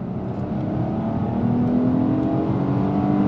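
A 2023 Nissan Maxima sedan accelerates under throttle, heard from inside as a steady, rising engine drone with a climbing whine, loud and continuous without talk.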